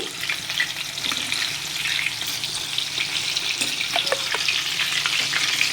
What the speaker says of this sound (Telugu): ఇది ఇప్పుడు మీడియం ఫ్లేమ్లో అయితే పెట్టి వేగనివ్వాలి.